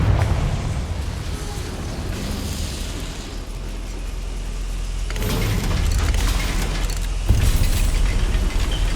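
A Confringo fire spell blasting inside a goblin mine in Hogwarts Legacy, a loud continuous roaring rumble with fresh bursts about five and seven seconds in, no voices over it.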